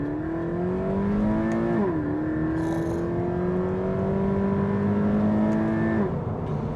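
A Subaru BRZ sports car with a naturally aspirated engine accelerates hard from inside the cabin, its engine note climbing steadily, dipping at a gear change, then rising again before easing off.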